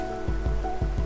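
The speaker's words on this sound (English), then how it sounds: "No, this rain is new!" Steady rain falls in the video game A Hat in Time, a dense continuous patter close by with a low hum underneath and a few soft thumps, and no talking.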